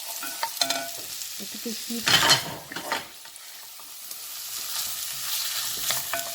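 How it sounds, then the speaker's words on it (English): Onions and sun-dried tomatoes sautéing in a pan for a sausage casserole, with a steady sizzle, stirring scrapes and a brief louder burst of clatter partway through. "I'm going to saute the onions till they get a little bit soft"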